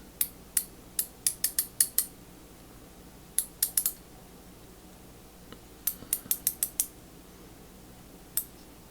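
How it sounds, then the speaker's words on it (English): A Craftsman 24967 3/8-inch drive ratchet with its mechanism exposed during a teardown makes quick bursts of sharp, light metallic clicks in short clusters, separated by pauses, close and quiet. "just so you can see what it looks like when it's ratcheting"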